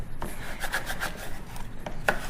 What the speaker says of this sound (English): squeegee it down